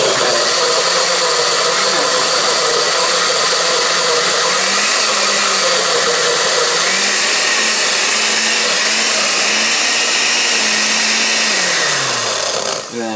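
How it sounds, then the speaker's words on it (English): A blender grinds ice for a piña colada, a loud continuous whirring roar that holds steady for the whole stretch, its pitch shifting slightly as the blade works through the ice, before cutting off at the very end. "make sure the ice isn't getting stuck into the blade"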